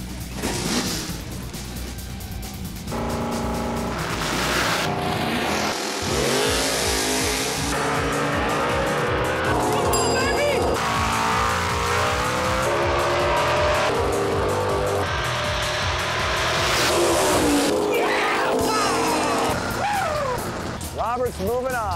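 Drag race cars, including a 2009 Challenger, roaring as they accelerate at Houston Raceway Park, loud engine revs rising and falling with tire squeal, under announcer talk.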